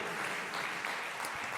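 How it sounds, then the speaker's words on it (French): A concert audience at the Nouvel Atrium claps briefly during a live show, producing soft, distant, continuous applause that is faint and short. "on peut l'applaudir, messieurs, dames"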